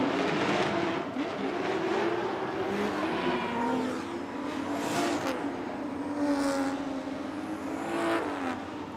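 A loud drag racing car engine roars and climbs in pitch as it accelerates hard down the strip, sustained throughout, with no voices.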